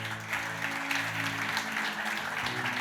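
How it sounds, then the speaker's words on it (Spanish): A church congregation applauds in a steady, full burst of clapping, with a sustained tonal hum of music or organ underneath. "Denle un aplauso al Señor"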